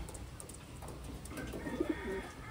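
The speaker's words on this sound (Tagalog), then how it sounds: "Ayan ang ibon." A racing pigeon gives a few soft, low coos in a quiet outdoor setting, faint against a steady background hiss.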